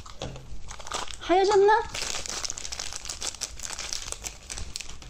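Wrapper being torn open on a chocolate snack cup, a short crinkling rip with plastic crackle under a woman's speech.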